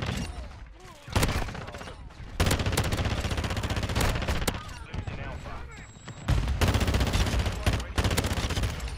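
Bursts of AR rifle gunfire in a video game, rapid automatic volleys broken by short pauses, loud and close with game sounds around them; a player talks now and then.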